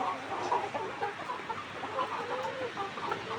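A flock of laying hens in a coop during a spell of intense heat clucks continuously, a low chorus of overlapping calls heard close up and unbroken throughout.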